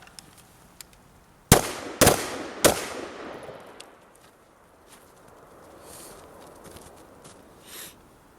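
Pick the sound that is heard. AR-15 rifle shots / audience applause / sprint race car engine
AR-15 rifle shots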